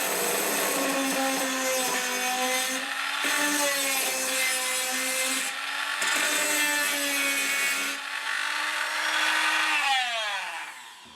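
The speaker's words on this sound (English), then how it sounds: "I've put a larger drill in the Dremel for this" A small high-speed Dremel rotary tool with a drill bit whines and grinds continuously up close, its pitch dipping under load in several bursts as it drills out a metal rivet.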